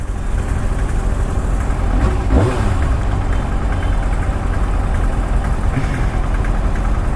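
A Kawasaki ZX-6R motorcycle engine idles at low revs, a steady loud rumble that runs unbroken throughout, with no talking over it.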